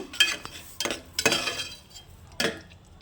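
A spoon stirs spice paste into egg biryani masala in a pot, with a few short scraping and clinking strokes separated by pauses, close and moderately loud.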